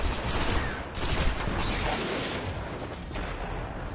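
A pulse rifle in a PS4 shooter game fires dense, continuous rapid bursts that blend into a steady loud wash of gunfire.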